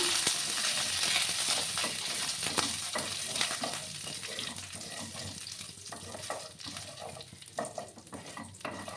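Curry leaves crackle and fry in hot oil for a flattened-rice and semolina breakfast dish, a busy spattering sizzle with stirring clinks and scrapes, close and moderately loud.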